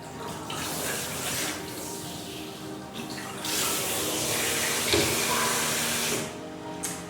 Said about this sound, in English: You use lukewarm water